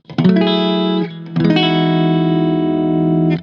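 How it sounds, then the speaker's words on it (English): An electric guitar runs through an overdrive pedal set as a clean boost, sounding two ringing, bright chords close and loud, the first cut short after a second and the second left to sustain before stopping. "Now with the overdrive engaged, as a bit of a clean boost, it'll give you a little bit of twinkle and sparkle on your sound."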